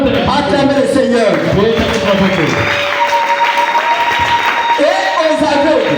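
A church congregation applauds and acclaims the Lord, sustained loud clapping and cheering mixed with raised voices and talk throughout.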